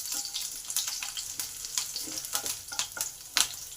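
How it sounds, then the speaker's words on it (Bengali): Nigella seeds and green chilies fry in hot oil, giving a soft continuous sizzle broken by scattered sharp crackles and pops, fairly quiet and close with no voices. "তেল গরম হলে তেলে দিলাম কালো জিরে, কাঁচা লঙ্কা। কালো জিরে কাঁচা লঙ্কাটা একটু ভালো করে ভেজে নেব।"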